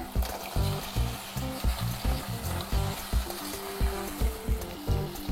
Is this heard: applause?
no